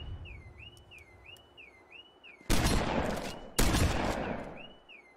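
Two loud bursts of rapid gunfire in the Halo video game, over a repeating warbling electronic alarm-like tone and low background noise, with no talking.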